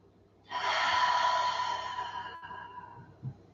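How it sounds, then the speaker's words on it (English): A long, slow breath is pushed out through an open mouth during a morning wake-up stretch, a close, soft, airy rush that lasts about two seconds and fades gradually, heard alone. "open the mouth and really lengthen out that exhale"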